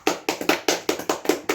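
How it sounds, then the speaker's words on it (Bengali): A man claps his hands close by, about eight sharp, even claps in a quick steady rhythm, with no talk over them. "কত জোরে দাদা হাততালি দিচ্ছে"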